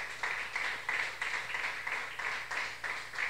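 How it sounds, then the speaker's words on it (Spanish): A church congregation claps in rhythmic unison, steady repeated beats of applause at moderate volume with no talking over them. "Denle un aplauso al Señor de la gloria con más fuerza."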